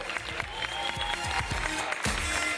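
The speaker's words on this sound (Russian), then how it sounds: "Аплодисменты!" An audience at a KVN comedy team competition applauds after the judges' scores are announced, with steady clapping that continues throughout under music.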